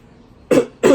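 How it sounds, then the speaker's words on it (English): A man clears his throat twice in quick succession, two short rough bursts close to the mic after a moment of near silence. "I had to clear my throat."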